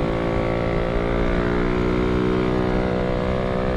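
A small everyday motorcycle engine, a low-cost commuter bike, runs steadily and close up for a few seconds with a sustained, even drone, loud and alone without talk.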